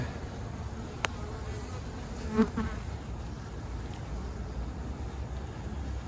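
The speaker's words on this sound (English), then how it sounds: "We'll shake a few extra bees in here." Honey bees buzz steadily in a dense, close swarm while frames are worked during a Demaree split to prevent swarming, with a brief knock and a soft thump breaking the continuous hum.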